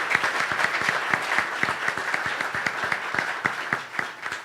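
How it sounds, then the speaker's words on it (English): Audience at a church Sunday service applauding, steady dense clapping with crisp individual claps throughout, no speech over it. "Let's give them a round of applause, please."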